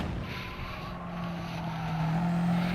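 A Subaru race car engine drones steadily at Laguna Seca, its tone holding a sustained pitch and swelling louder toward the end, heard close from on board with no talk.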